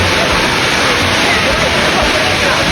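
Majestic waterfall near Iligan City, Lanao del Norte, with water rushing in a steady, loud, unbroken roar close by.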